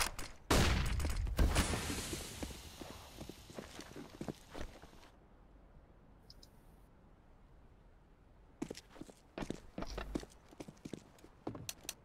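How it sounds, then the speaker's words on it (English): A flashbang grenade is thrown in a tactical shooter game, giving a loud burst with scattered impact and shuffling footstep noises, then a quieter stretch before more sharp clattering bursts return. "Throwing flashbang."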